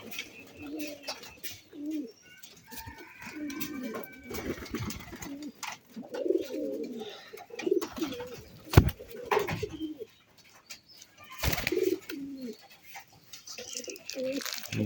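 Domestic pigeons, including a semi-coloured one, coo low and throaty in soft repeated bursts nearby. There are scattered wing flutters and taps, and someone talks intermittently over them.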